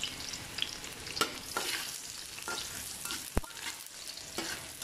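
Onions fry quietly in cooking oil, a low sizzle broken by a few spatula scrapes and one sharp knock. The sound is close and subdued, with no voices.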